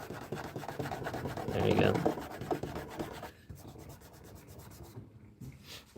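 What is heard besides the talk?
Dewalt detailing polisher buffing a Honda's paint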